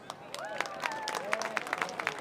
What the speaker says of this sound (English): Another round of applause for all of our senior cheerleaders.